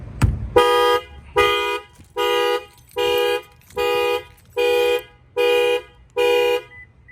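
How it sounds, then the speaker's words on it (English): A sharp thump on a tire, then a 2020 Toyota Camry's factory car alarm honking in eight evenly spaced, steady bursts, loud and close, with no voices. "that will fire off the factory alarm"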